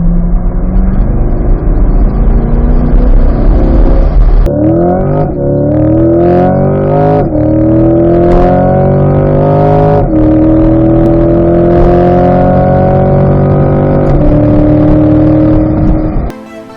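A 2020 Chevrolet Corvette C8, a mid-engine sports car, accelerates on the road, its loud, close engine note rising and falling through several gear changes over a steady drone.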